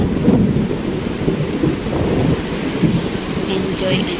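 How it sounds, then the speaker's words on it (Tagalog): Heavy rain pours steadily during a summer thunderstorm while low thunder rumbles through it, a dense, loud and continuous wash of falling water with no voices heard. "Sana ulitin niya ulit umulan."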